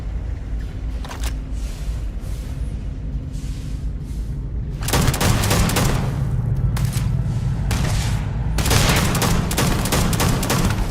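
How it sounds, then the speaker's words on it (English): Gunfire during Starfield video game combat: a quieter opening stretch, then sharp rapid bursts of shots erupt midway and recur in loud clusters, close and punchy. "why are they shooting at me?"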